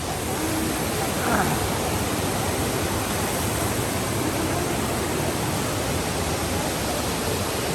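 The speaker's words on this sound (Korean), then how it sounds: "여기 이렇게 판타라 폭포가 나옵니다" The Pantara waterfall in Vietnam gives off a steady, loud, rushing roar of falling water that fills the whole stretch evenly without letting up.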